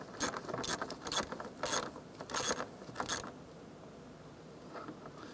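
A ratchet snugging down a bolt on a 2004-2008 Acura TL strut bracket: five or six quick bursts of close, crisp clicking in an uneven rhythm, then a quiet stretch of background hum.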